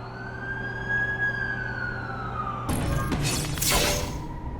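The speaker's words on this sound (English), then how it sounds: "That's the ambulance I called." An ambulance siren from the video game The Amazing Spider-Man 2 wails steadily in a long sweeping tone as the vehicle arrives, then shifts to brighter, noisier bursts near the end, loud over a constant rumble.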